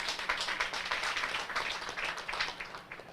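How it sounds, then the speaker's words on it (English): Members at a scheduled Rotary Club meeting in Kampala give a round of applause: quiet, fairly distant clapping with uneven rhythm that lasts a few seconds and thins toward the end. "Give them a round of applause for that."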